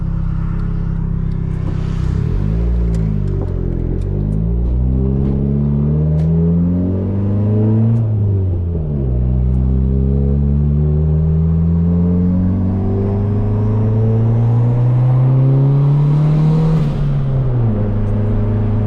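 A turbocharged Honda Civic accelerates hard through a left turn, its engine revving up repeatedly through rising, falling gear pulls, loud and close from inside the cabin with turbo whir and no talking.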